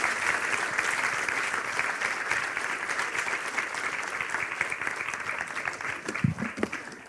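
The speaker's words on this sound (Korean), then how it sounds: "큰 박수로 앞으로 모시겠습니다" Audience at a Korean talk concert applauding to welcome a speaker on stage, a dense, sustained round of clapping from a large crowd with a few louder thumps near the end.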